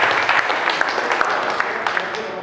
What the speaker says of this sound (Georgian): ტაში ჩვენს თავს, მეგობრებო.